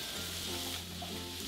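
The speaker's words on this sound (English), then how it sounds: "I'm gonna stir." Food sizzles steadily in a hot pan while a spoon stirs through it, a constant hissing fry with a low steady hum underneath and no talking.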